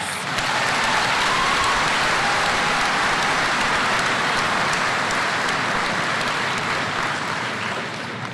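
A large crowd applauds at the James Monroe High School 2016 graduation ceremony, a thick, steady roar of clapping that holds evenly for several seconds, then tapers slightly at the end.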